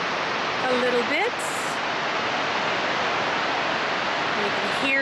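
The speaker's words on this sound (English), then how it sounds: "And you can hear the falls, the roar of the falls." Horseshoe Falls on the Niagara River roars as a steady broadband rush of falling water, loud and unbroken throughout, with a few brief tonal whistles near the start and end.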